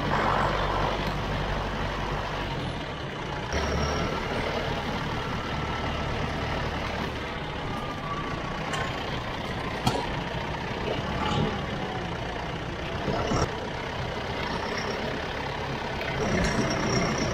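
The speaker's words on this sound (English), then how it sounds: "Always feed them with the skid steer." Skid steer engine running steadily while feeding cattle on a farm, a continuous loud diesel drone with occasional clanks, no talk.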